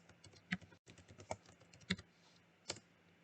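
A name is typed on a computer keyboard in a quiet room: soft, close key clicks come in a few uneven strokes with short pauses between them, with no talking.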